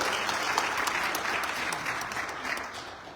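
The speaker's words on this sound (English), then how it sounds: "Give him a lovely round of applause as well." Audience at a bhajan evening in a Durga Mandir applauding a keyboardist, a dense, steady wash of clapping that fades slightly toward the end.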